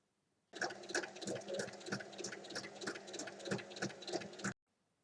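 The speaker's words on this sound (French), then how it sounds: "il faut refermer la petite ouverture en faisant une surpiqûre sur tout le tour à 1 mm" A sewing machine topstitches 1 mm from the edge all the way around a fabric unicorn basket, closing its small opening; the steady, close, fairly loud whirring runs for about four seconds, starting and stopping abruptly, with no talk.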